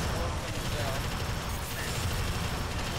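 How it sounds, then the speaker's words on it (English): An automatic gun with a 400-round supply firing rapidly in Alien Swarm, a continuous dense rattle of shots at full loudness for the whole stretch, with voices mixed in. "That thing is going through some serious ammo. Yeah, it has 400 rounds."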